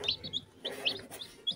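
Newly hatched chick peeping inside an incubator on the 22nd day of incubation, a few short high chirps repeating close by with faint background rustling.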